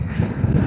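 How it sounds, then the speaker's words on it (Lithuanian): Wind roars across a motorcyclist's helmet and body during a snowstorm ride in April, a steady low buffeting rumble with gusty swells throughout, close and loud, with no talking. "Koks vėjas."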